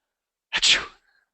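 A single short, loud sneeze sound made by a voice imitating it, abrupt and close, with silence before and after.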